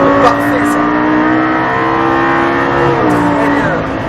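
A Lamborghini Gallardo 560 accelerates gently, its engine note climbing smoothly and loud from inside the car, and a person talks over it.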